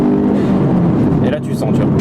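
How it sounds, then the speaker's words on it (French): A car accelerates hard at full throttle as its turbo kicks in, a close engine growl rising under a voice speaking French. "tu vas appuyer au plancher, il n'y a rien. Là, tu vois, le turbo il se déclenche. Et là, ça pousse."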